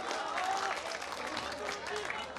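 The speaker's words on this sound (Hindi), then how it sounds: "क्या अनुभव है, तालियां हो जाए महाजन जी के नाम।" Audience applause at a Hindi comedic poetry recitation, a soft, steady patter of clapping from a crowd, heard at low volume and fairly distant throughout.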